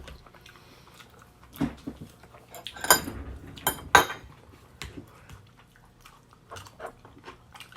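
Someone eats bulgogi and corn pizza indoors, with sparse, close bites and soft chewing spread across quiet pauses, plus occasional clinks of cutlery or dishes.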